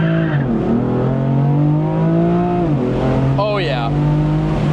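A BMW M4 with the S55 engine held on the brake at full throttle for a launch, revving loud and close with a steady droning pitch that swells as boost builds, then rises sharply near the end. A person talks over the engine.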